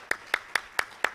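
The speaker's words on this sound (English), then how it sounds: "We have a big applause for you here." Applause follows a Fulbright inaugural lecture, heard as five crisp, evenly spaced claps in slow rhythm, fairly close and distinct against a quiet room.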